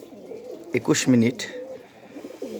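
Pigeons coo in low, rolling calls through the clip while someone speaks over them close by in the late afternoon.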